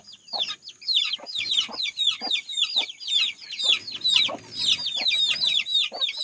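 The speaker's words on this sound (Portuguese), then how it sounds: "Ficou cinco galinhas aqui dentro dessa área nova que a gente fez." Five chickens cluck continuously in a newly built coop area, a busy overlapping chorus of short repeated calls close by with no talking.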